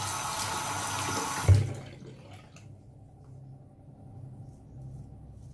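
Water gushes from a tap into a bathroom sink, loud and steady for about a second and a half, then shuts off abruptly, leaving a quiet room hum.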